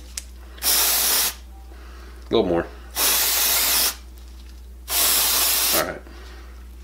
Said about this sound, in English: Just spray it, spray it on there pretty liberally.